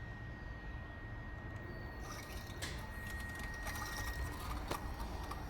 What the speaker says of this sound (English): so let's run the fuel pump and make sure there's nothing leaking.